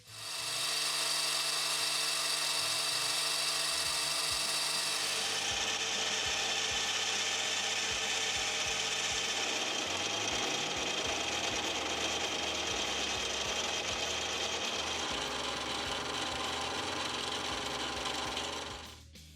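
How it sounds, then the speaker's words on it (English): A lathe drills and reams a steel sleeve out to 8mm, a continuous loud whirring and grinding that changes pitch partway through and runs almost twenty seconds before cutting off at the end. "these can get drilled and reamed to 8mm to try and match the boring bars"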